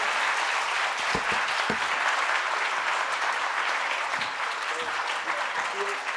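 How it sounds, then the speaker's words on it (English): Audience applause at an ambassadors' talk session, a steady dense wash of clapping lasting throughout, loud and close, with a few faint voices underneath. "Big applause."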